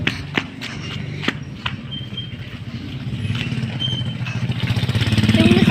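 A scooter approaches at night outdoors, its small engine buzz growing louder toward the end, preceded by scattered clatter and footsteps.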